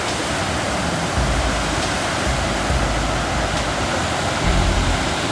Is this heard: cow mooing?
no